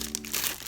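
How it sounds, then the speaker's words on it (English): A plastic bag from Canon G7X Mark II camera packaging crinkles close by, a brief burst of dense, crackly rustling with no talk. "It came in this plastic bag"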